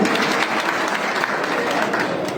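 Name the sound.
audience applause welcoming new party members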